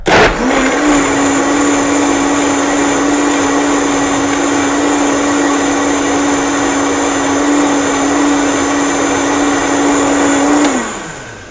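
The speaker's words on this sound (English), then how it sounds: "So I'm going to take a minute and blend this." A Vitamix blender runs at steady high speed blending lemon ginger tea, a loud continuous whir for about ten seconds that stops abruptly near the end.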